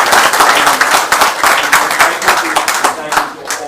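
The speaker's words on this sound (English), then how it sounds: "If everybody could just give him a round of applause." Council meeting attendees give a round of applause to a fire captain, close and fairly loud, with distinct individual claps that thin out toward the end.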